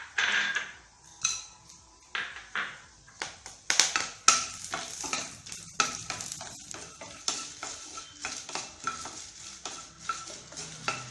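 Whole spices such as cinnamon, cloves and pepper roasting in ghee in a pan, with steady soft sizzling and a rhythmic series of spoon scrapes and stirring clinks, close up and with no talk.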